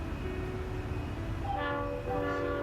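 Trains meet on the Rockville Bridge, with a steady rumble of rail cars under a sustained horn that rises into a brighter, louder multi-tone blast partway through, heard from a moderate distance.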